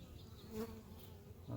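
Honeybees hum steadily around an open nest cut from a tree and moved to a bee farm, a faint continuous buzz throughout.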